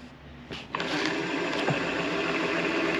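A drill bit bores through a tube and fabric on a heavy-truck camper van, a harsh whirring grind that starts after a brief pause and then holds steady and loud close by.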